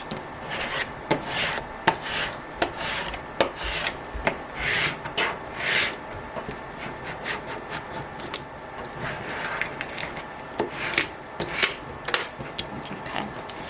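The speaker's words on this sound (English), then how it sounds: "You want to make sure that you scrape that down really good." Transfer tape is scraped firmly down onto a Starbucks cup wrap in a steady run of close, raspy rubbing strokes that repeat unevenly and continue throughout.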